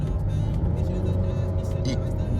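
A 2016 Dodge Charger 3.6L V6 with dual exhaust and a muffler delete, heard as a steady low buzzing drone from the car, continuous and moderately loud, with a few faint higher clicks over it.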